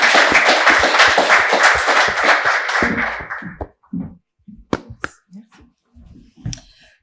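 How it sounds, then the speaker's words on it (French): At a French young-enterprise pitch competition, an audience claps loudly and densely for a speaker, then the applause quickly dies away into a few scattered claps and faint room noises. "S'il n'y a pas d'autres questions, on peut applaudir notre intervenante."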